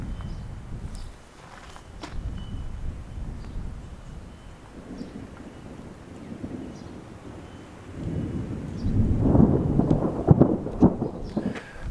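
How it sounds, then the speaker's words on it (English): Rumbling thunder from an approaching storm rolls on and off for several seconds at a pump house building site, distant at first and growing louder and deeper toward the end, with gusty wind noise over the microphone. "We got a storm coming in."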